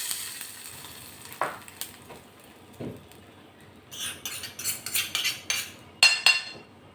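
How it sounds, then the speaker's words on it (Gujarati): Hot oil tempering with cumin and a pinch of asafoetida poured straight into a cooked dish with the gas off, giving short bursts of sizzling and crackling with light utensil clinks in a home kitchen. "હવે ગેસ બંધ કરી અને આ વઘાર આપણે સીધો આમાં નાખી દેવાનો છે."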